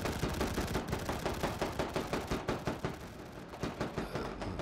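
Machine gun fire from World War I trench warfare rattles in a steady, rapid rhythm of repeated bursts, moderately distant and with no talk over it.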